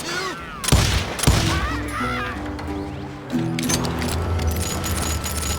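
Two sharp gunshot cracks ring out in the Call of Juarez Gunslinger western shooter, loud and close, over a busy backdrop of music and game noise with shouted voices and harmonic cries nearby.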